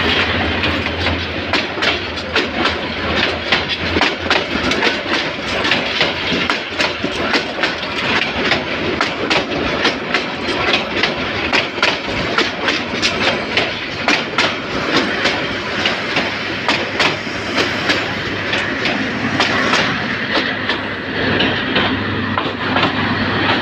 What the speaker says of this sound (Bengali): এই যে ট্রেনটি 1 নম্বর লাইনে এসে প্রবেশ করেছে।